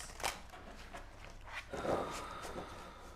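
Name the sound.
shuffling large tarot cards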